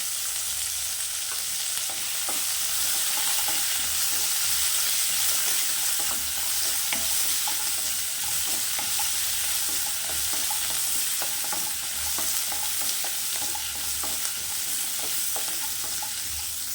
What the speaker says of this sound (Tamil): எண்ணெய் சேர்த்துக்கலாம், கருவேப்பிலை தழை சேர்த்துக்கலாம்